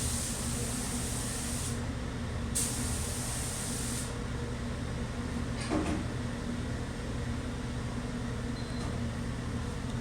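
Activator sprayed onto hydrographics film in a dipping tank, a steady loud hiss that cuts off and resumes in bursts over a constant background whir of ventilation.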